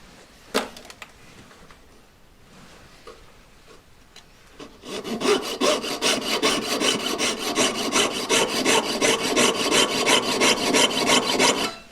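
A jeweller's saw cutting through metal, starting with a few faint scrapes and then settling into a steady, fast rhythm of rasping back-and-forth strokes, close and fairly loud.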